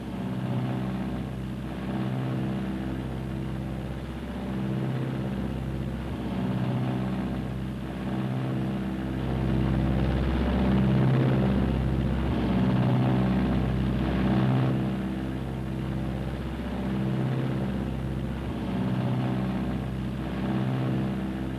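A Martin B-26 airplane's engines drone steadily in flight, a loud, continuous low rumble with throbbing propeller pulses and no talk.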